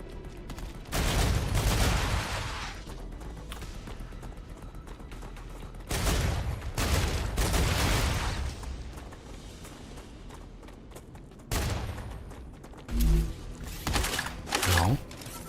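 Gunfire from the StarRupture video game, aimed at bugs, comes in three loud rapid bursts. The sustained volleys crackle up close, with quieter stretches between them.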